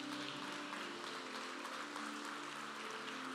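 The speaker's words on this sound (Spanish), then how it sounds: "Dale un fuerte aplauso a Dios." A church congregation at a Sunday service claps in a steady, distant wash of applause beneath a sustained tonal hum, faint throughout.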